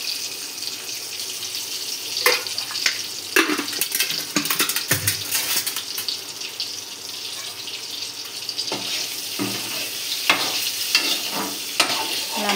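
Boiled eggs fry in a shallow layer of oil for an egg masala curry, a crackling sizzle with frequent spatter pops and scrapes of turning, close and steady, with no talking.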